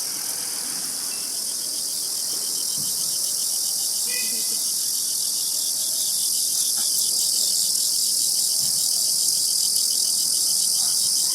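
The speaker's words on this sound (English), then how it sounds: "Is that a cricket?" Crickets sold by a street vendor in China, a dense, shrill, continuous chirping chorus, loud and close, with faint street bustle and a few soft knocks beneath.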